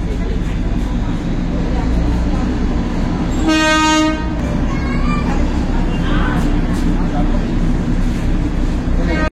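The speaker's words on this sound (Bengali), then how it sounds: "এদিকে টয় ট্রেন।" Darjeeling toy train at Darjeeling station: a loud, close horn blast lasting about half a second over a steady rumble of the train and station, with voices present.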